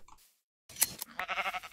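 Minecraft sheep bleat once at close range, a short wavering cry after a brief pause, followed by a second longer, pulsing bleat.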